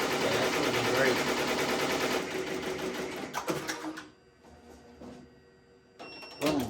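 An embroidery machine stitches a test design onto a hoodie with a fast, steady mechanical rattle that is loud and close for about four seconds, then stops and leaves sporadic clicks and handling noises.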